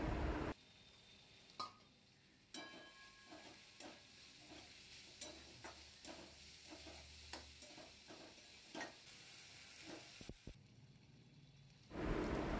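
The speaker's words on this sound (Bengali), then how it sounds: "এবার দিয়ে এইগুলোকে হালকা বাদামি পর্যন্ত ভাজতে থাকবো।" Chopped onions fry in hot oil for a prawn malai curry, giving a quiet steady sizzle broken by intermittent scrapes and clacks of stirring in the pan.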